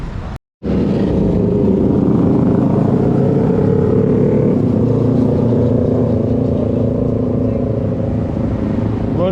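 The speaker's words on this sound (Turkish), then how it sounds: "buranın motorcu çetesi" Motorcycle gang riding past on a Kuala Lumpur street, a loud sustained roar of several engines after a brief cut at the start, steady and close throughout.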